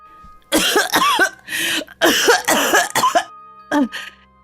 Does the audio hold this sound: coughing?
yes